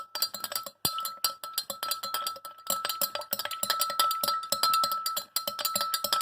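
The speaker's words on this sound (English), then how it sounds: "We need to keep on stirring." A spoon stirs a liquid mixture in a glass during a kids' lava lamp science experiment, giving rapid, continuous clinking and tapping against the glass throughout, fairly close and with no talk.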